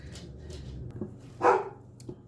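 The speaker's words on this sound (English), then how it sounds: "There's another dog barking somewhere" A single dog gives one short, clear bark close by, with a few faint yips and kitchen noises around it in a home kitchen.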